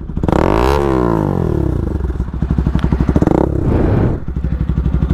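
Motorcycle exhaust with a broken dB killer stuck inside the bend pipe, revving loudly and close with a rising then falling pitch sweep, then a rough uneven idle with rattly pulses before dropping off near the end.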